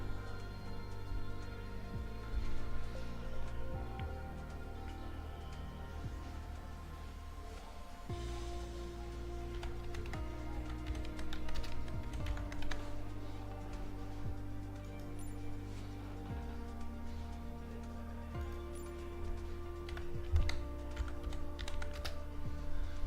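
Typing on a computer keyboard runs continuously for a long stretch, with soft, quick key clicks layered over a steady droning background hum that shifts in pitch from time to time.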